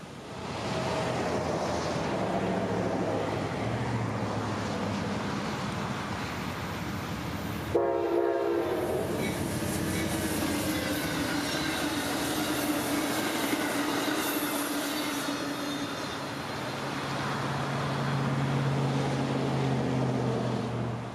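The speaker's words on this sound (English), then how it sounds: "here came Amtrak 280 around the corner with a friendly crew doing every bit of track speed." Amtrak 280 passenger train passes at full track speed, a sustained loud rumble of wheels and cars throughout, with a sudden surge of wind and clatter near the midpoint and metallic high-pitched ringing tones as the cars rush by.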